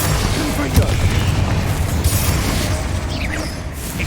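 A Confringo fire-blast spell in Hogwarts Legacy produces a dense, continuous booming roar with rumbling noise and crackle throughout, mixed with voice-like sound.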